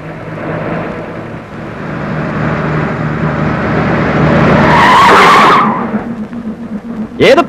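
A car skids loudly nearby, its engine rumbling under the rising screech before the noise cuts off, followed by a short burst at the end.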